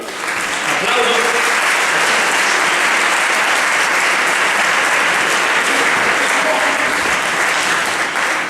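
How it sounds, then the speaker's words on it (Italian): A theatre audience at Cineteatro Apollo in Forlì bursts into loud, sustained applause, a dense wash of clapping that carries steadily from start to finish. "Applauso."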